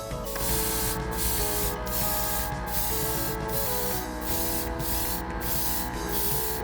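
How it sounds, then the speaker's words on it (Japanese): A Meteor 2 airbrush sprays Gaianotes lacquer paint onto a spoon, giving a steady, close hiss throughout with a faint rhythmic pulsing underneath. "早速スプーンに吹いていきたいと思うんですけども、中に入っている塗料はガイアノーツさんの、ラッカー系塗料と。"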